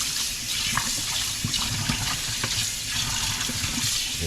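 Tap water runs steadily into a kitchen sink while oxtail is rinsed to wash away salt and grease, a continuous close splashing gush with faint clatter and no talking.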